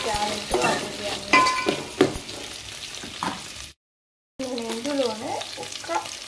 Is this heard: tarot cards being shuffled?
no